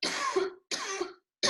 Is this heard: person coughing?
yes